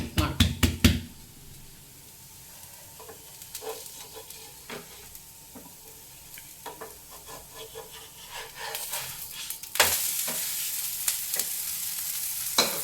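Talipattu, a North Karnataka flatbread, cooking on a hot pan, a soft sizzle with scattered knocks and scraping, louder bursts at the start and near the end.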